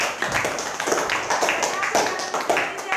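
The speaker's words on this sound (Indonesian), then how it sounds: "Berikan tepuk tangan" Schoolchildren in a classroom clap after a classmate recites a pantun, a quick uneven patter of hands with voices talking over it.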